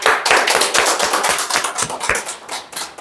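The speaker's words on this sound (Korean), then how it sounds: "예, 박수로." A church congregation claps during a worship service, a dense burst of hand claps with distinct sharp beats, close and loud, lasting about three seconds.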